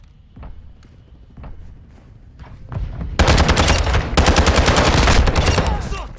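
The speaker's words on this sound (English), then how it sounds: "Taking fire!" Sustained automatic machine gun fire in a multiplayer domination match of a video game, starting with scattered footsteps and thuds, then erupting into a loud continuous burst of rapid shots over the last three seconds.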